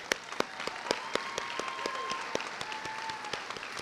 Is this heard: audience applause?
yes